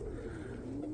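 Roller pigeons coo softly at their loft, a low throaty murmur heard nearby, brief and gentle.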